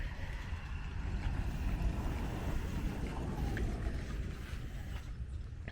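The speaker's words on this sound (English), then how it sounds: "the microphone picks up a bunch of noise from cars going to the boat launch" Steady broadband roar of road traffic heading to a boat launch, cars passing continuously at a moderate distance with wind-like rumble, no voices.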